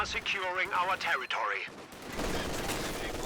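Machine gun fire from an MG team in Company of Heroes 2, a rapid rattling burst in the second half following a stretch of talk over game noise, suppressing a squad.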